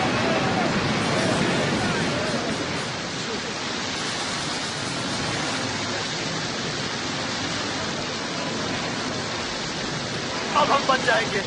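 Roaring storm waves surround a boat in a film scene, a dense continuous wash of surf and spray with rain-like hiss, loud and unbroken, with faint voices emerging near the end.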